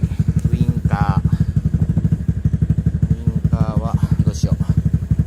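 A reissued Honda Fusion scooter, recently serviced with new parts and fresh oil, idles with a steady, rapid chugging pulse up close while someone talks over it.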